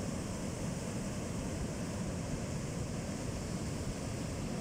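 Broad, steady rushing of water flowing past a river bridge near Khammam, a dense unbroken wash that stays at an even, fairly loud level from start to end with no voices.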